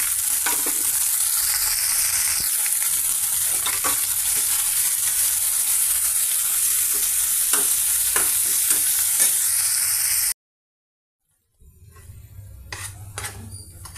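Spinach leaves added to a frying pan while cooking palak paneer, a loud steady sizzle with repeated scrapes and taps of a spoon stirring, cutting to silence before quieter sizzling and clinks resume, no talking.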